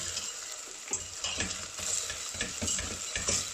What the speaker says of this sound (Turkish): Şöyle salçamız da bir kavrulsun